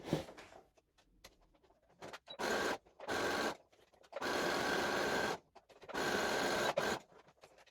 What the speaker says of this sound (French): Et je vais venir coudre.